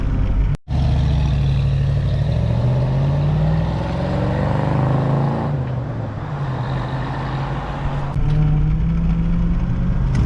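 A 1989 Dodge Ramcharger with a straight-cut NP435 transmission driving, its engine and gear whine droning loud and close, rising in pitch as it accelerates, briefly cut at the start and after a shift midway.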